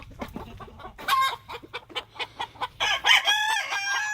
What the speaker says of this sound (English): My Kelso hen.